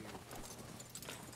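Horse hooves clip-clop in a cowboy-themed video game at a camp, a soft, steady patter of steps set against a low, constant background hum, quiet and fairly close.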